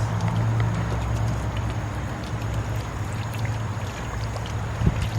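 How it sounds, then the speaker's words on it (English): Water sprays steadily over chrome car wheels in a quick, continuous rinse, a close hissing wash that holds at an even level throughout with no talking. "Quick rinse."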